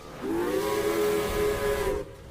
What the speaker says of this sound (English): Then, Hero whistled loudly.